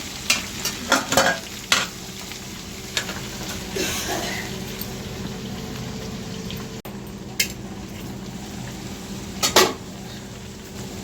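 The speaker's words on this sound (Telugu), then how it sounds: "బాగా తిప్పుకోవాలి. బాగా తిప్పుకుని సిమ్లో పెట్టుకుని మూత ఎత్తుకోవాలి." Sliced okra stir-frying in a pan, with a soft continuous sizzle and scattered sharp clinks and scrapes of a spoon against the metal, close and unaccompanied by voices.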